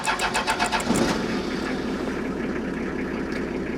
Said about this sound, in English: as I'm going to show you here just by starting the engine